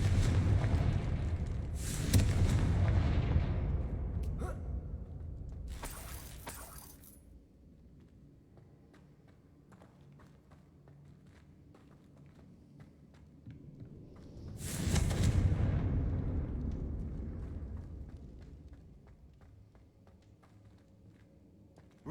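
Explosions from the Confringo blasting spell in the wizarding game Hogwarts Legacy, two separate booming bursts with crackling, clinking debris, each swelling and then decaying into a quiet magical shimmer.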